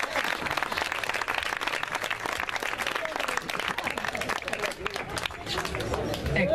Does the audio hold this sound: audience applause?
yes